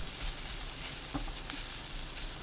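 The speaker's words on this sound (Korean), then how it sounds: "1분 후 표고버섯 넣고 1분 30초 볶아주세요." Carrots and shiitake mushrooms stir-fry in a hot pan, giving a steady, close sizzle with faint scraping stirs.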